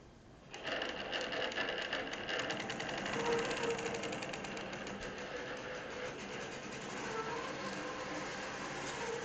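A computerized longarm quilting machine stitches edge to edge at 11 stitches per inch, giving a steady, fast mechanical chatter that runs continuously at a moderate distance with no voices over it.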